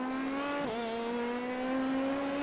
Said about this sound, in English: Do love the pops and bangs on the overall, the great noise that these cars make, these Dallara P217s